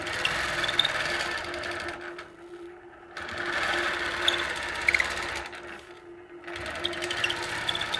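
A longarm quilting machine stitches a small concentric design along a quilt's sashing. Its fast, even mechanical chatter runs close and steady, broken by two brief stops.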